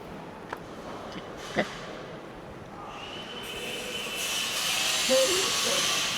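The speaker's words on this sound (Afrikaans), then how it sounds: "As jy hom wil baie stoom gee, Ja. dan lyk hy so." Steam from a boiler used for cooking maize builds into a broad, steady hiss that grows louder over several seconds, following a few faint clicks and knocks at the start.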